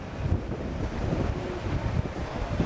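Steady wind roars and buffets a microphone outdoors high above the water in Shikoku, Japan, a dense rumbling wash with no voices.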